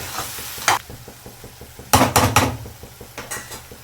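Chole masala paste sautés in a pan over the flame, a low sizzle broken by several sharp spoon scrapes and clanks against the metal, close and loud in short bursts, with no talk.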